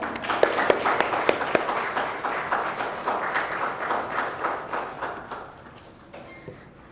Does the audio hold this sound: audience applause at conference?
yes